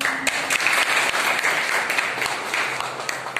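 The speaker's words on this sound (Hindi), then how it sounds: "एक जोरदार ताली इनके लिए" A crowd at a public gathering in Raipur, India, claps steadily throughout, a dense, sustained round of applause heard up close, with no speech.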